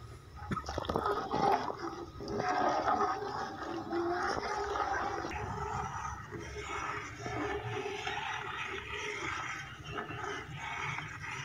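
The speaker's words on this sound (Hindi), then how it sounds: "अब इसमें थोड़ा थोड़ा करके आप जो मिक्स किया हुआ दूध था वो डालते जाएं और साथ साथ चम्मच चलाते जाएं" Mixed milk is poured little by little into a pan for a custard biscuit trifle while a spoon stirs it, making a continuous soft wet swirling and sloshing close by, with no voices.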